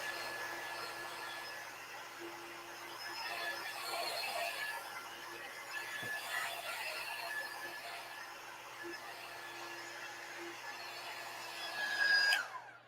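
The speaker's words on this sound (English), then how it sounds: "I'm going to try heat it up just a tad with my heat tool." A handheld heat tool blows hot air in a continuous, close whir with a faint steady whine, holding level for about twelve seconds before rising in pitch briefly as it shuts off.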